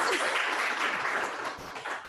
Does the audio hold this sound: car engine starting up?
no